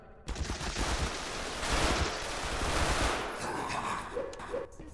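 Sustained automatic gunfire in the Garry's Mod Containment Breach video game, a dense continuous rattle of shots that starts abruptly and holds loud for several seconds before tapering off.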